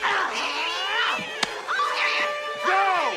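A swarm of cats yowls and screeches in a frenzied attack on a woman in the horror film Sleepwalkers, with overlapping loud caterwauls and a sharp thud partway through.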